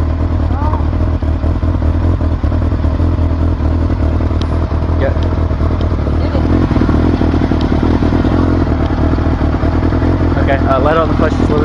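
A motorcycle engine runs loud and close as the clutch is eased out a little, holding a steady rumbling drone with occasional clattering and scraping under it.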